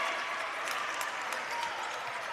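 A crowd at a boys varsity high school basketball championship cheers and applauds loudly and steadily, a dense roar of clapping and voices that fills the gym without a break.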